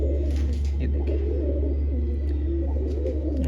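Pigeons coo steadily and close by, in low, soft repeated calls over a constant rumbling background.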